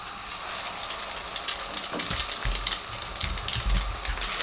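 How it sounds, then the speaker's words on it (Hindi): Chicken shami kebabs frying in a pan, a close, continuous bubbling hiss of hot oil with uneven crackling bursts and low knocks. "इसी तरीके से हम दूसरे फ्राई करते हैं।"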